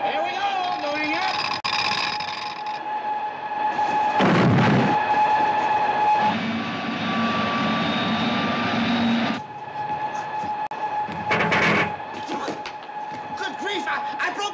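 Comedic spaceship engine sound effect from a film: a loud, steady mechanical drone with whining tonal layers starting up and running throughout, with bursts of rumble, while people talk over it.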